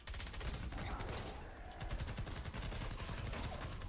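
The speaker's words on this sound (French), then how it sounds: "On tire." Rapid bursts of automatic gunfire crackle continuously in a Fortnite Save the World firefight, dense and loud with a brief lull midway.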